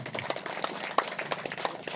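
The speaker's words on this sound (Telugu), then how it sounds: "వెంకటేశ్వరరావు గారు ఒకసారి గట్టిగా క్లాప్ చేద్దాం." An audience claps at a Pyramid Seva Dal action conference in Tallagudem village. The applause is a brief, moderately distant patter of many hands, steady and without talk over it.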